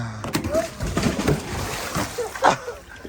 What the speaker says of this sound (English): this is the third time Roger fell into the water